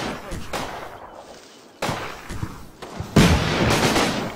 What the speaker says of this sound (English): there must have been a rifle nade